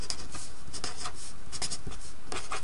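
PEMDAS is written out by hand with continuous, close scratching pen strokes on paper, in quick uneven bursts with no talk.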